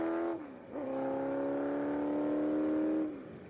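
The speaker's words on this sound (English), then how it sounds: "That should be the Elva of William Murphy Jr." An Elva race car screams past at a Circuit of the Americas SpeedTour race, a loud, high-revving engine note that holds steady, dips in pitch with a gear change, then fades as the car goes by.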